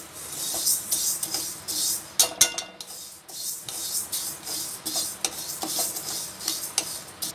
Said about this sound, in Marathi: तर आपल्याला उडदाची डाळ भाजून घेणार आहे